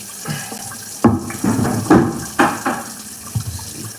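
Water runs from a tap into a sink in close, uneven gushes and splashes that swell and cut off several times, with no talking over it.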